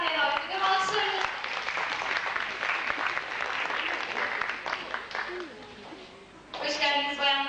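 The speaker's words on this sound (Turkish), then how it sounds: "Alkışlarınız." Steady audience applause fills a concert hall at a philology concert programme as three women are called onto the stage, clapping loud and sustained for several seconds, with voices briefly heard before it swells again near the end.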